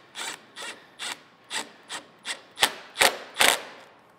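Eight evenly spaced ratcheting strokes sound as a 7mm socket tightens a tri-clamp during lift assembly. Each stroke is a short, close rasping click, getting slightly louder toward the end, with no talking.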